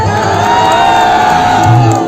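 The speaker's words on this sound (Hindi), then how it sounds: "एक बार जोरदार तालियां" A large crowd at a Pawan Singh stage show in Patna cheers and whoops loudly, with shouts rising over a steady roar, swelling near the end.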